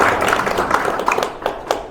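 Warm applause breaks out at a federation president's inauguration ceremony, a short burst of many hands clapping with sharp, uneven patters at moderate volume.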